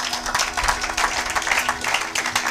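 A church congregation claps and applauds together in a steady, fairly loud wash of hand claps lasting a couple of seconds, with no talk over it.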